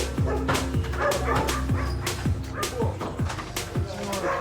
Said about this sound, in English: the 6 dogs protecting the property are not helping